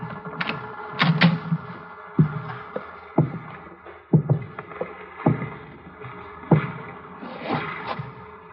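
A dinghy being rowed in a radio drama sound effect: oars knock and creak in the rowlocks at an unhurried, uneven rhythm, with soft water splashes between the close, hollow wooden thumps.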